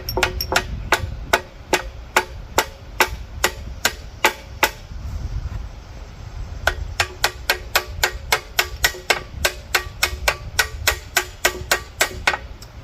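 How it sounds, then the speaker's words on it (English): Sharp metallic taps from a hammer striking metal on a Farmall H tractor, repeated at a steady brisk rhythm, pausing briefly partway and then resuming, close and clear. "Now I'm just gonna hit this guy lightly with a hammer."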